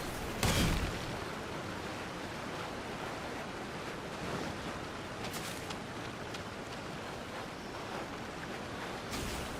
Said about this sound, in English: aquí está la catarata.